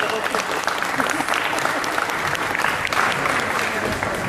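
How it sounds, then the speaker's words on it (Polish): At the official weigh-in for fighter Przemek Opalach against Simeunovic, an audience claps densely and continuously, with a voice partly heard over the applause. "Wielkie brawa!"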